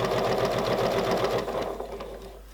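A sewing machine stitches fabric for improv curves, running in a fast steady mechanical whir with rhythmic needle thumps close by, then slowing and stopping near the end.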